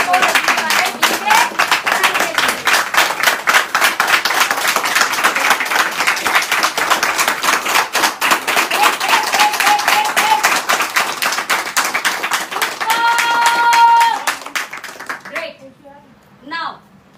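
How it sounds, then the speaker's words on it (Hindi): Loud, sustained applause from a seminar audience at a business plan presentation, dense rhythmic clapping for about fifteen seconds before fading out, with a brief tone near the end. "एक बार जोर से ताली लगाओ"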